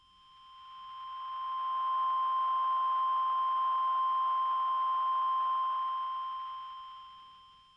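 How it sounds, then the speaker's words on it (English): A synthesized wash of white noise from Ableton's Operator with a sliding filter and a hard cutoff near 1.5 kHz, a steady high whine running through it, swelling up gradually and then fading away. "It's operator with quite a bit of white noise."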